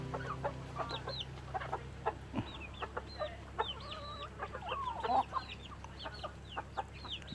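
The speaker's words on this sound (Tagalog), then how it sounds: "Diyan kayang tandang na yan." Native chickens cluck in a rural farmyard with repeated short calls and a rooster among them, fairly faint and scattered over a quiet background hum.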